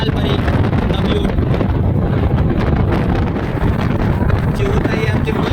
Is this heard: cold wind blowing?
yes